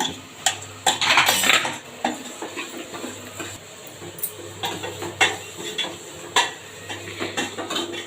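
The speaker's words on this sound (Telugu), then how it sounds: "ఇడ్లీ స్టాండ్ దాంట్లో పెట్టాలి" Metal idli stand lowered into a pot of hot water, a run of close, bright metallic clanks and scrapes with short pauses, no speech.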